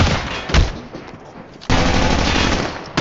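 Loud automatic gunfire in Call of Duty, a dense burst that eases off, then a sudden, sustained volley of rapid shots up close.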